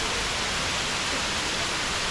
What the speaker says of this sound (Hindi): 250 से 300 फीट ऊपर से ये पानी गिर रहा है।